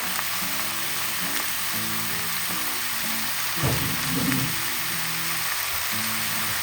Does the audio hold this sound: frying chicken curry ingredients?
yes